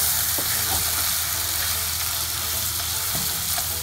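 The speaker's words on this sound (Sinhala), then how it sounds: "මේ තෙල් ටෙම්පරාදු වෙච්ච මිරිස් හොඳට ගෑවෙන විදිහට මේක කවලම් කරගමු" Tempered chillies are stirred through hot oil for a sea chicken fish curry, making a loud, continuous sizzle with scraping stirring sounds mixed in throughout.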